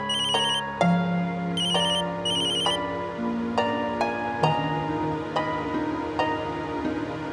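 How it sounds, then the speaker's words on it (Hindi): A phone rings unanswered, its tune repeating in a steady pattern of melodic tones with a sustained low drone beneath, loud and close, with no voices. "अक्षरा मेरा फोन क्यों नहीं उठा रही?"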